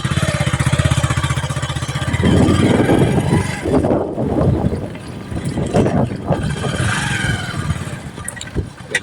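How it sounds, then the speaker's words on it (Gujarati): A motorcycle ridden out from home along village lanes, its engine droning steadily up close with a rhythmic idle that rises into a louder, rougher rev as it moves off, wind buffeting the microphone. "ચાલો હવે નીકળ્યા છીએ બાઇક ઉપર"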